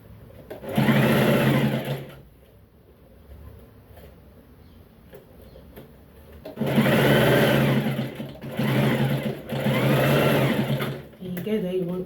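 A sewing machine stitches around a lace neckline on an iro and buba garment, with one loud close whirring run, a pause, then two more long runs separated by a brief stop.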